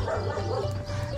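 A dog bowwows in a short burst of barks amid steady low background hum, fairly close and loud.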